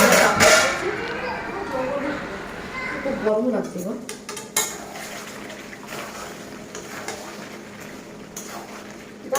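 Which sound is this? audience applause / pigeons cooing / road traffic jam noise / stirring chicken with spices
stirring chicken with spices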